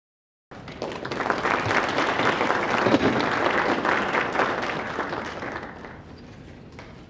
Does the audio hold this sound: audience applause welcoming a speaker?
yes